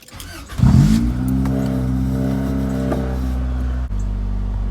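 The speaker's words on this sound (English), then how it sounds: "Now let me go ahead and turn the car on and we'll see what our oil pressure is reading." A 1995 Honda Accord engine cranks, catches and settles into a steady loud idle, a close and continuous hum after a brief start-up surge.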